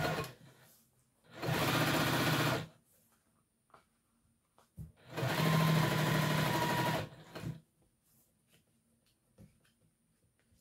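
A sewing machine stitches a straight seam through T-shirt knit fabric in two steady runs of rapid needle chatter, each lasting a couple of seconds and separated by quiet pauses with small handling clicks.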